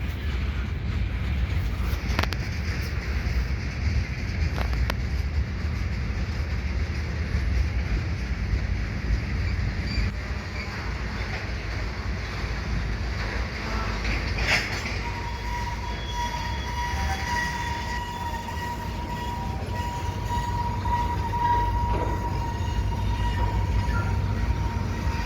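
CPKC GP38-2 and SD40-2 diesel locomotives shove an oil train past, a steady rumble of rolling cars with a faint wheel squeal and a brief high tone late on, continuous and fairly close.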